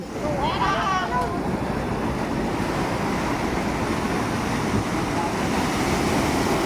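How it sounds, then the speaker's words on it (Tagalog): Heavy surf rolls in against moored fishing boats in rough seas, a constant loud roar of crashing water mixed with wind buffeting the microphone, and a brief shout near the start. "Alon, alon, alon!"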